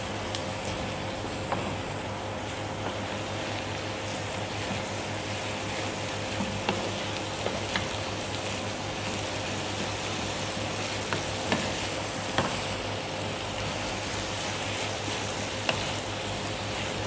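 Dough for putri mandi cooks in a pan with a constant low sizzle and hiss, punctuated by faint scattered taps and scrapes of stirring, steady and quiet with no talking.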